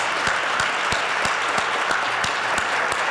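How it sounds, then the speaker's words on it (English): Conference audience applauding the wait staff: steady, dense clapping from a full room with no talk, holding even throughout, with sharper individual claps standing out at regular intervals. "If you could give them all a round of applause."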